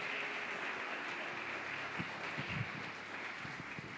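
Sustained applause from a church congregation, a steady wash of clapping filling the room for several seconds.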